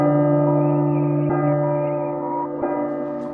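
A clock chiming at midnight in the horror game P.T., sounding as sustained, ringing bell-like tones with struck notes repeating about every 1.3 seconds, steady and fairly loud with no one talking.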